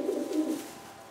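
A Janssen De Klak racing pigeon gives a short, soft coo close by, a low throaty murmur that fades after less than a second.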